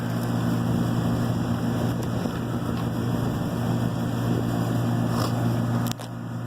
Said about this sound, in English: our heaters are off and our compressor is now on